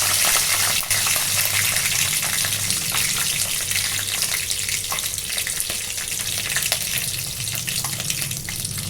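Green chillies frying in hot oil with curry leaves for a Tamil crab curry, giving a steady, close, dense sizzle and crackle that runs unbroken and fairly loud throughout.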